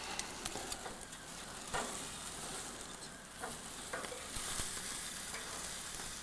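Brats cook on a grill with a continuous crackling sizzle and scattered sharp pops and ticks, moderately close and with no voices.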